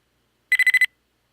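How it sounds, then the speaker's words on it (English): A quick run of five bright electronic beeps in rapid succession from a video game robot spider waking up, close and clear, then silence. "So a little couple of beeps as it wakes up"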